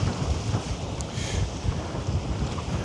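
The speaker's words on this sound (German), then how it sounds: "Ja, Wind ist ganz anständig." Strong wind blowing over the Elbe at Hamburg, a steady loud roar buffeting the microphone throughout with gusty low rumble and no voices.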